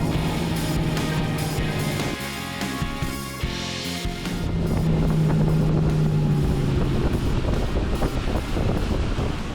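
Roaring outboard engine of a Highfield Sport 900 aluminum motorboat at high speed near 6,250 RPM, loud and close with heavy wind and water rush, and the pitch climbs steadily.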